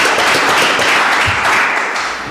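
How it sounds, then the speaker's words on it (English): An audience at the opening session of a citizen accelerator event in Trieste claps together, a steady wash of applause that fills the room loudly and begins to fade toward the close. "A second applause for Valentina,"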